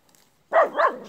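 A dog near a Sherpa machine on a hay pile gives two close, loud barks in quick succession, following a moment of near silence.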